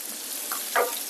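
Pork chops sizzle quietly in a pan, a faint steady hiss broken by a couple of brief louder pops.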